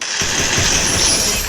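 Tractor engine starting up in the game Free Fire MAX, a loud, steady rumbling engine that kicks in after a brief quiet start and runs continuously to the end.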